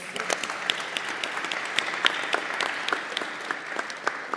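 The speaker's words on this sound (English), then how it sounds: "Let's give a round of applause for my panelists." A conference audience claps for panelists after an energy-sector panel discussion, a steady crackle of many hands with quick irregular peaks that holds at an even level throughout, fairly close, with no speech.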